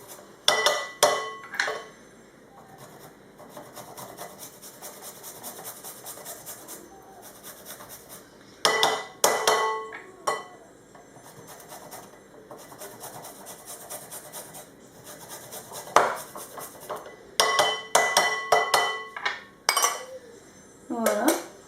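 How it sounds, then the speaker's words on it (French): Three garlic cloves are grated for a swordfish and pepper tagine, producing bursts of rapid scraping strokes against a metal grater, close up, separated by quieter pauses with occasional French talk. "Là je vais le râper, 3 bonnes gousses d'ail"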